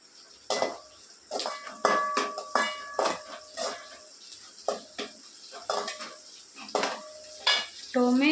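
Onions fried in a pan and stirred with a metal utensil give repeated scraping clinks and clatter against the cookware, with a soft sizzle underneath, close up and fairly busy throughout.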